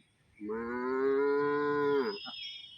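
A single long, steady moo from a calf, close and loud, rising slightly at the start and breaking off at the end, with no talking.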